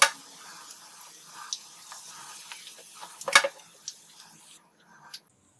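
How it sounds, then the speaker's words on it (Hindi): Mutton potato sticks frying in hot oil, a soft continuous sizzle broken by scattered crackles and one louder clatter of a utensil before the frying noise drops away near the end. "इसी तरह सारी स्टिक फ्राई कर लेंगे।"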